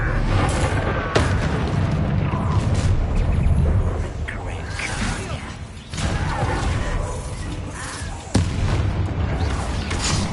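The Bombarda explosion spell is cast in the Hogwarts video game. Several heavy booms and blasts land about every few seconds, each followed by a rumbling wash of debris under a loud, dense game soundscape, with voices speaking.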